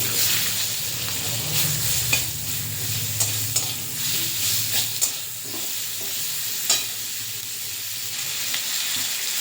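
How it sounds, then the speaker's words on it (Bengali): Chopped onion fries in hot mustard oil with bay leaf, cinnamon, cardamom and a dried red chilli, stirred for a jackfruit-and-prawn curry. A steady close sizzle runs throughout, broken by occasional spatula scrapes, with no talking. "এবার দেবো বড় সাইজের একটা পেঁয়াজ কুচি,"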